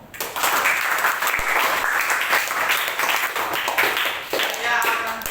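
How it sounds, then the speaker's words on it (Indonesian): A classroom of students applauding together, a steady burst of dense clapping lasting several seconds, close and lively with scattered voices mixed in. "Tepuk tangan untuk kita semua."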